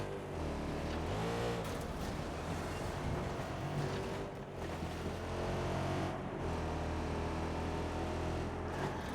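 A car engine drones steadily while driving in Watch Dogs 2, with a low, continuous rumble and a slight pitch rise near the start, fairly quiet and without talk.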